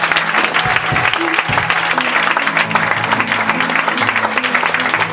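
A congregation applauds during a church service, a dense, steady clapping from many hands close by that carries on throughout, with a voice faintly underneath.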